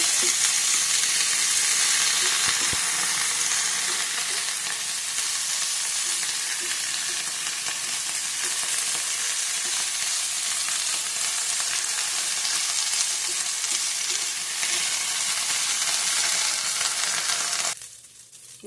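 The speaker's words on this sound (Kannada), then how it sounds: "ಪಾಟಲ್ಲಿ ಬೆಳೆದಿರೋ ಎಲೆನೇ ಇದು ಚೆನ್ನಾಗಿ ಹುರ್ಕೊಬೇಕಿದು" Doddapatre (Indian borage) leaves sizzle in a hot pan, a steady, loud, dense frying hiss that runs unbroken for most of the span before dropping away abruptly near the end.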